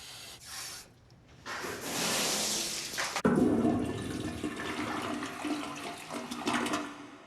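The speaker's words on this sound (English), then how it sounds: "check for leaks by turning on the water" Water gushes and hisses loudly from an uncapped toilet supply hookup after a demolition job, a sudden burst that surges and sprays steadily for several seconds.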